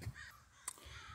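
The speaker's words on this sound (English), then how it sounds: "These crows are scaring me though. There's so many of them." Crows in a tree at a field beside a playground give a short, faint caw with a brief sharper call after it, heard at a distance in quiet surroundings.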